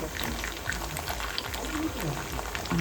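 Sabudana sandige (sago fryums) frying in hot oil until brown, giving a steady bubbling crackle close by, with a voice heard faintly underneath.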